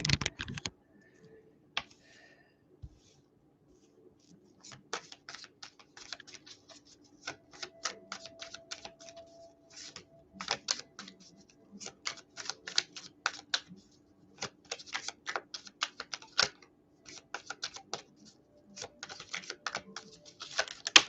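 Bursts of rapid, crisp clicking and riffling, like cards being shuffled, come in short clusters separated by brief quiet pauses.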